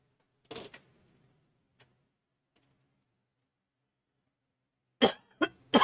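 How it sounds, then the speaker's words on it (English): A person coughs indoors at a computer: a short hacking cough near the start, a long quiet stretch with faint ticks, then a louder cluster of coughs close to the microphone at the end. "I'm about to cough up a lung."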